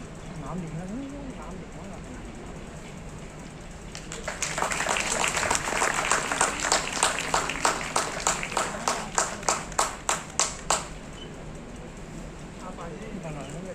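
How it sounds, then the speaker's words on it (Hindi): Audience applause at a ceremony in Nagpur starts after a spoken introduction, builds into rhythmic clapping, then thins into a few sharp final claps as voices and background murmur continue. "प्लीज जोरदार तालियां हमारे तमाम श्रोतागण के लिए"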